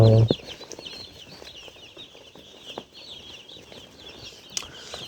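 Chickens and chicks at a poultry farm housing about five hundred roosters and five hundred chicks under red lamps, giving a steady chorus of high peeping with occasional clucks over a low hum, fairly close and continuous.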